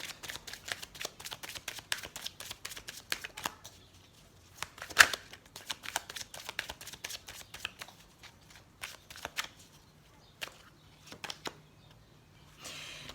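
Tarot cards are shuffled by hand in quick riffling bursts of crisp card flicks, close and fairly quiet, pausing briefly midway before resuming in scattered snaps.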